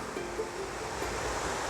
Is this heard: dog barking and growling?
no